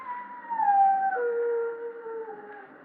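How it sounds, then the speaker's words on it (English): A dog howls in a long, mournful wail that bends downward in pitch and then holds on a lower sustained note, heard alone in a quiet interior. "Means someone's going to die when a dog howls like that."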